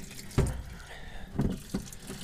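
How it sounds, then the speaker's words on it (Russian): Diesel fuel drains from the Common Rail fuel system of a KAMAZ 65117 truck, heard as three short, splashy gushes of liquid separated by brief quiet gaps, close by. "Ну и соляр сливаю это все."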